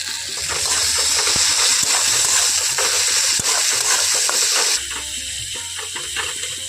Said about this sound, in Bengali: খুব ভালো করে আমি পেঁয়াজটাকে ভেজে নেব